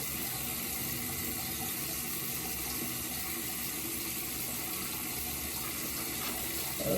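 Running water from a tap splashes steadily as a Moroccan hammam exfoliating mitt is soaked under it, a continuous broadband rush at a constant level throughout.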